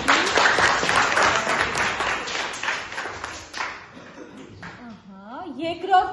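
A class claps for a student in a loud burst of applause that fades out after a few seconds, followed by a teacher speaking.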